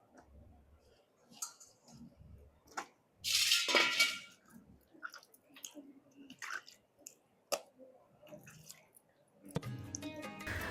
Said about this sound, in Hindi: प्याज, टमाटर, शिमला मिर्च, हरी मिर्च, अदरक, इन सारी चीज़ों को धो लेते हैं